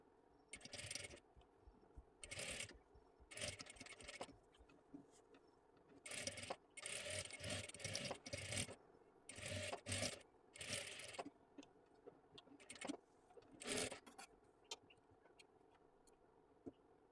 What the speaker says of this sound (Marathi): आता इथे आपल्याला पूर्ण आकारामध्ये व्यवस्थित अशी शिलाई देऊन घ्यायची आहे.